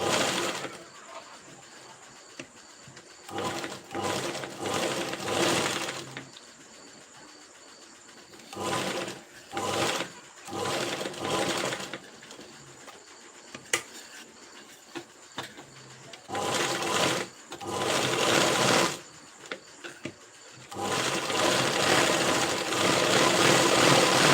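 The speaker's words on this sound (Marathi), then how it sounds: "इथे आपल्याला एक सरळ टीप मारायची" Domestic sewing machine running a straight stitch on the front panel of a size-40 princess-cut blouse, heard in several loud bursts of motor whir separated by quiet pauses, with no talking.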